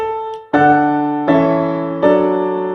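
Three sustained piano chords played one after another, each struck cleanly and left to ring, forming a pedal or passing six-four progression with the middle chord on a weak beat; clear and close with no talking.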